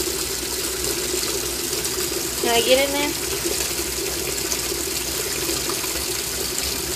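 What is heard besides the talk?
water running in a washing machine filling for laundry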